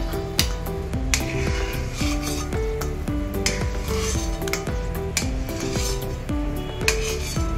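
A metal spoon stirs sugar syrup in a pan while making Mysore Pak, scraping and clinking against the pan in a steady rhythm of repeated strokes, close and clear with no talk.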